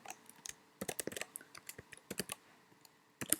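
Rapid keystrokes on a computer keyboard while typing Python code, close and fairly quiet, in uneven bursts of clicks with short pauses between words.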